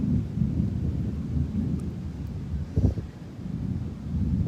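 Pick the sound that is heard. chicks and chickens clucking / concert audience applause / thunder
thunder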